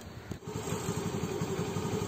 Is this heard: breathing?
no